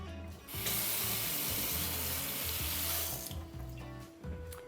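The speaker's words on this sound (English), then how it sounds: "I'm gonna rinse my spoon off really quick." A spoon is rinsed under a running kitchen tap, the water gushing loud and close for about three seconds, then easing to a lighter trickle with faint clinks.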